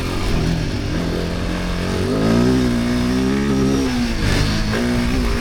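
A Kove 450 or Himalayan adventure motorcycle revs up loudly close by, its engine note climbing and then dipping and wavering after a fumbled gear change, with no talking over it.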